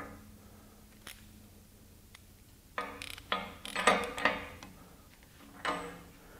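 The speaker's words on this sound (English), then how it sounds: "Use our torque wrench here." A torque wrench set to 250 ratchets on a bolt, giving a run of quick metallic clicks and clacks that grow denser partway through, then one last click. The sound is close, and no one talks.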